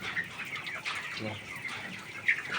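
Soft, scattered clucking from a 19-day-old chicken, with brief higher squawks over a low background hiss; no one speaks.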